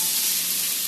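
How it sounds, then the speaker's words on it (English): Carrots, onions and beetroot sizzle steadily in a preheated frying pan with olive oil for a borscht, giving a loud, continuous crackling hiss with no voices. "onions and beetroot into the pan"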